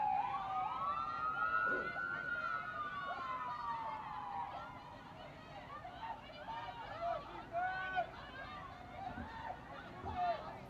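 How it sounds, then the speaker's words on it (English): Ambulance sirens wail as they pass a stadium during a men's college lacrosse game, a faint rising-and-falling tone under a commentator's voice. "some ambulances wind past Benedetti Rowley Stadium"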